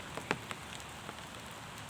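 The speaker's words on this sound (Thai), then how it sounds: "เพราะฝนตกนั่นเอง" Rain falls steadily in a rural Thai setting as a faint, even hiss, with a few sharper drop taps standing out from the wash.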